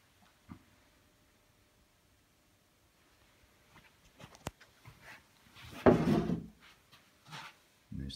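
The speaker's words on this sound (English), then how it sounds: "The drawer with a wooden knob." A wooden drawer with a wooden knob on an old waxed Victorian pine table, sliding and knocking with a few dry wooden thumps and scrapes, close by and moderately loud.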